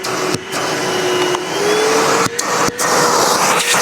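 A Milwaukee wet/dry vacuum cleaner runs loud and close, a steady whining motor drone that stays almost constant throughout, with a couple of brief dips in airflow.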